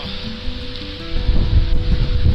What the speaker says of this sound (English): don't be put off by this gusty, windy video.